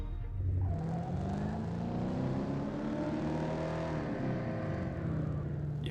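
Race cars in the Top Drives driving game roar through a race, a steady loud engine drone with shifting revs and pitch sweeping up and down, continuous for several seconds with no voices.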